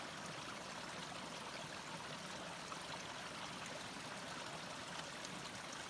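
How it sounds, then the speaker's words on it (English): A small creek trickles and flows steadily through a canyon bed in Neff's Canyon, a continuous close, bright babbling wash of water with no voices. "a little creek bed"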